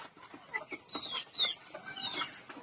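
Chickens on a poultry farm cluck and chirp softly, some spotted, black, white, naked-neck and crested birds among them. A few short, high calls come over a quiet background.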